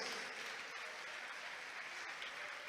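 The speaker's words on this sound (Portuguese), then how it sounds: "Vamos aplaudir mais a Jesus?" A church congregation applauds at a distance, a soft, steady wash of clapping that stays faint and even before ending abruptly.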